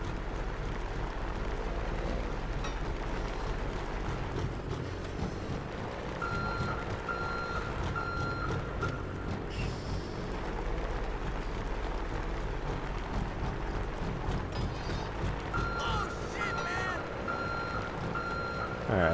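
Reversing beeps from a heavy duty wrecker tow truck in GTA 5 repeat in steady evenly spaced runs, sounding twice over a loud, constant diesel engine rumble with no talk.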